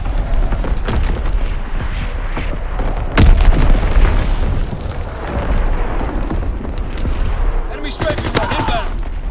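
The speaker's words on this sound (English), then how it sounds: "Enemy bomb incoming." Heavy bombardment in a World War II shooter game: a dense, continuous roar of blasts and rattling gunfire, with a strong booming impact early on and another burst of bright crackling near the end.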